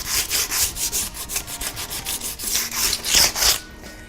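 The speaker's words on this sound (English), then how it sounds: "First thing you need to do is to give it a light sand." Sandpaper rasps back and forth over a varnished wooden chair in quick, even hand strokes, close and steady for several seconds before stopping.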